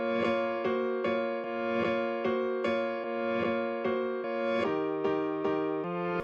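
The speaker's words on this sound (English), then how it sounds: "I flipped around some of the notes so that instead of going dun, they go dun. Like I flipped the audio backwards." Resampled piano audio with some notes reversed so they swell in backwards, a repeating chordal melody of evenly spaced hits over about six seconds, heard alone and fairly quiet.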